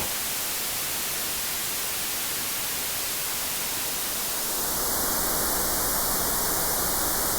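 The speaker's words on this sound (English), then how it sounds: "Flat white noise." Steady, broadband hiss of flat white noise, constant and fairly loud throughout with no pauses or variation.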